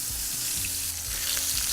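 Pork chops sizzle loudly and evenly on a grill in a dense, constant hiss, with a low hum underneath and no voices.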